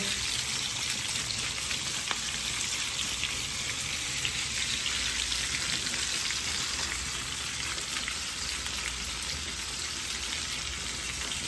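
Seasoned salmon fillets sear in a hot pan with a steady, dense sizzle and crackle that holds evenly throughout, close and moderately loud with no talking.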